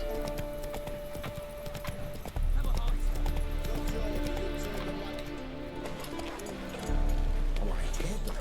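Roach, the horse in The Witcher 3, clip-clops along at a steady trot with an occasional whinny, heard over game music and a voice speaking nearby.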